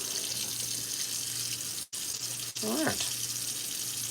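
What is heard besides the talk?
hot water running from a tap into a sink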